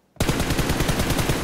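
Automatic gunfire from inside a house in PUBG, in the town of Pochinki: a loud, sustained rapid-fire burst starts abruptly and rattles on without pause.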